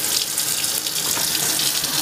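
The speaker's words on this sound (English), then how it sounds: "Gonna use some lukewarm water so she doesn't get shocked by the cold or anything." Lukewarm water runs from a tap in a steady, loud, continuous hiss with no talk over it.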